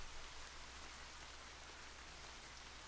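Rain falls steadily outside an open window onto a garden, a faint, even hiss of drops with no other sounds.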